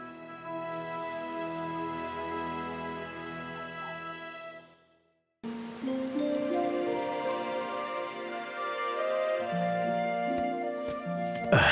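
Steady rain of the rainy season patters on and on, broken by a short silence near the middle, with sustained tonal layers running beneath it and no talking.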